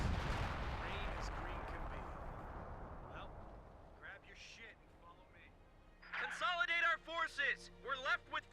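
Artillery fire in a real-time strategy war game, a booming blast that rumbles away, followed by scattered fainter thuds, with someone commentating over the later part.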